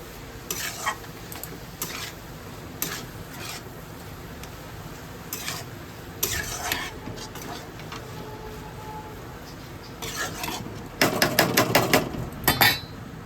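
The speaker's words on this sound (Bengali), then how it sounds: "এবার আমি চিংড়ি মাছটা দিয়ে দিচ্ছি এটার মধ্যে, পুরো চিংড়ি মাছটাই দিয়ে দিচ্ছি।" Prawns sizzle in a hot pan, broken by bursts of stirring, scraping and clinking utensils, louder toward the end.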